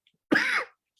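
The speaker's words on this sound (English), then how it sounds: "The COVID cough is never going away." A single short, harsh cough from a nearby adult, followed by brief near-silence.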